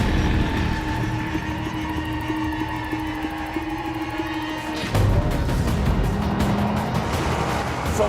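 Front-wheel-drive Golf GTI hatchbacks race on a track, with a steady engine drone and whining tone, then a sudden louder roar as a car surges past close by.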